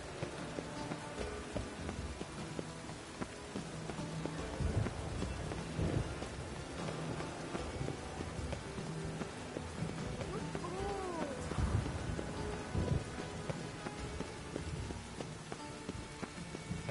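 Steady rain falls in The Witcher 3: Wild Hunt, a constant hiss with low thunder rumbling beneath it, while a voice speaks briefly partway through.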